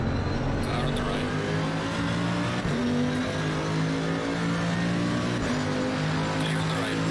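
A race car roars past on the right in a GT racing game on the Nürburgring, its engine a continuous loud drone with shifting gear tones, while a voice talks over it.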